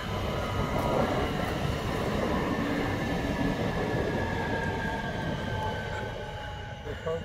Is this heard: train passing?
yes